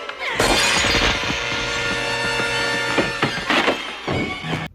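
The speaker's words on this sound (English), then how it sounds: "Smashes his head in with a TV." A television smashed over someone's head: a loud crash with shattering and splintering impacts, followed by several heavy thuds and clattering debris, dense and close throughout.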